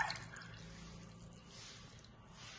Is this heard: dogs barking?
no